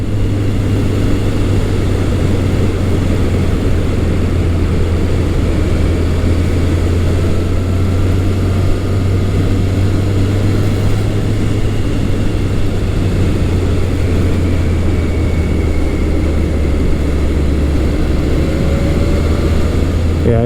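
Yamaha FJ1200 motorcycle engine pulling steadily from low revs while riding on the road, a continuous loud low drone with wind rush that holds level throughout, no voices.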